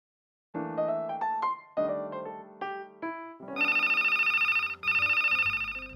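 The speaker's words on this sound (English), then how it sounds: "Did you miss the ringing of the bell?" A melodic electronic ringtone plays a short tune of rising notes, then switches to a rapid, buzzing trill that repeats twice, loud and alone.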